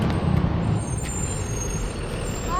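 A bus pulling in with a loud, steady engine rumble and a hiss of air brakes, heard close by with no voices.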